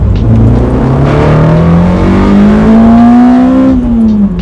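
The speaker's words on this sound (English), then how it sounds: "Any Honda will give you that same ridiculous buzz of accelerating so fast" A Honda Integra DC5 engine revs up steadily under hard acceleration, its buzzing pitch climbing for several seconds before easing off, loud and close.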